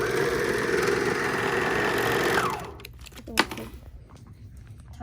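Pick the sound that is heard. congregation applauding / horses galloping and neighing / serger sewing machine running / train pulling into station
serger sewing machine running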